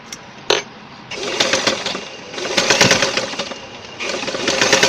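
A sewing machine stitches stretch fabric in short bursts, its rapid mechanical whirring starting and stopping, with a sharp knock early and longer runs toward the end.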